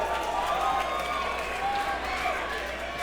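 A sold-out capacity wrestling crowd in Vancouver applauds and cheers after a drop kick, dense continuous clapping with crowd roar, loud and steady throughout.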